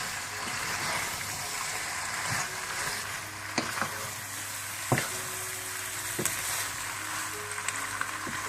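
Chicken pasta being stirred together in a sizzling pan, a continuous soft frying hiss with intermittent clicks and scrapes of a spoon against the pan, no talking.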